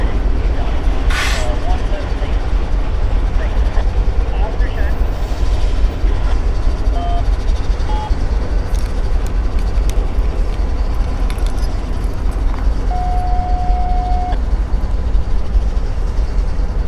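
DPU locomotive 3651 rumbles past trackside on a rail line, a steady, loud, continuous roll of wheels and engine with squeals and clanks at moments. A short tone sounds near the end, and people talk over it.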